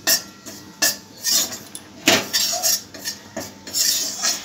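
A metal spoon scrapes and taps against a pan as gram flour roasts, giving about a dozen sharp clinks and scrapes in an uneven rhythm, close and clear with no voices.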